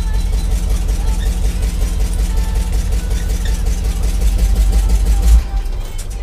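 A 1973 International Loadstar truck engine idles roughly after a cold start with the choke pulled, a loud steady low rumble that surges briefly near the end before settling.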